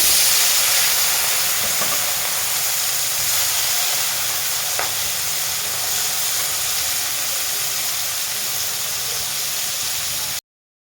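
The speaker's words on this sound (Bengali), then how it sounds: "তেলটা গরম হয়ে গেছে। দেখেন এই যে চিংড়ি মাছটা ভেজে নেব।" Giant freshwater prawns seasoned with turmeric and salt frying in hot oil, an even, close hissing sizzle that holds steady for about ten seconds and then cuts off abruptly.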